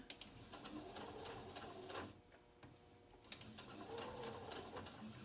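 A sewing machine stitches along a seam of a fabric dog pull toy, its needle running in a fast, steady mechanical whir with a brief pause near the middle, close and fairly quiet.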